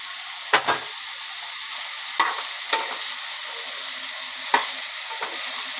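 Tempering seeds, onions and tomatoes sizzle in hot oil, a steady bright hiss broken by a few sharp spits and pops, close up with no talk.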